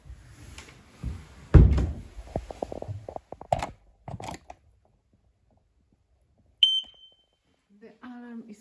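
A smoke alarm tested during a home inventory check gives a short, sharp electronic beep, heard once, after bumps, knocks and door or cupboard sounds in a quiet room, followed by brief further beeps.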